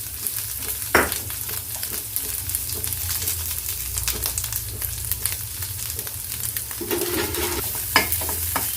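Curry leaves, onion and grated coconut fry in a pan for a pumpkin kootu, a steady close sizzle with a few sharp crackles and stirring scrapes throughout.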